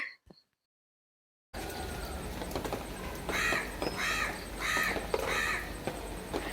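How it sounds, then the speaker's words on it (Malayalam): Several crows caw in a run of four or five harsh, evenly spaced calls against outdoor background noise, fairly close and clear, with no talking. "ഒരു കാക്ക കണ്ടിരിക്കണം കേട്ടോ, മറ്റേ കാക്കകളൊക്കെ വിളിച്ചു വരുത്തുന്നുണ്ട്."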